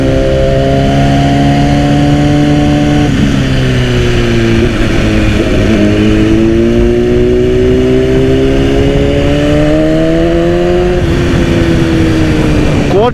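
A 2010 BMW S1000RR fitted with an Akrapovič exhaust revs loud and close, its tone climbing and dropping through repeated rises with sharp shifts in pitch, alone with no talk over it.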